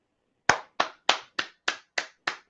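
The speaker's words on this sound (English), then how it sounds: "I was clapping" Seven crisp hand claps ring out close and alone against silence, evenly spaced at a brisk, steady pace.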